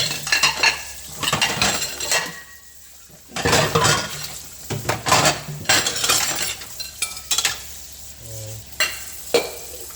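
Dishes being washed by hand: cutlery clinks and pots and pans clatter in irregular bursts over running water and scrubbing, close and fairly loud, with no talking.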